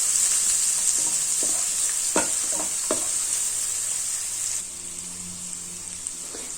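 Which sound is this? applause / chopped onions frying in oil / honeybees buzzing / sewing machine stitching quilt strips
chopped onions frying in oil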